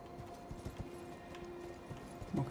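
Horse hooves in the video game Elden Ring clip-clop at a steady walking rhythm, moderately close, with a faint snort or whinny near the end.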